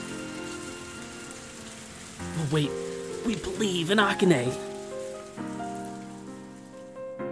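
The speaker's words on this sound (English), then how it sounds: "the rain flows its way down to patter against the concrete paved ground" Soft patter of rain on concrete pavement from the visual novel ONE: Kagayaku Kisetsu e, a steady background hiss under music and a person speaking over it.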